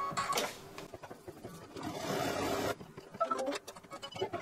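A home embroidery machine stitching down a quilted in-the-hoop stocking, giving a steady mechanical whirring and rapid needle rattle, close up and continuous with no talking.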